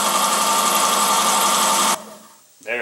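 A benchtop horizontal mill's motor runs at about 4,000 rpm with a loud, steady whine and hum close by, then cuts off abruptly and winds down, followed by a brief clunk.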